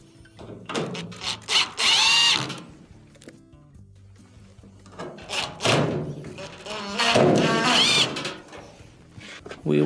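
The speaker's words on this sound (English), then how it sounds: "Reinstall our 2 Phillips screws." Two Phillips screws are driven back into the frame of an LG dryer, with two bursts of a close, whirring power driver separated by quieter handling clunks.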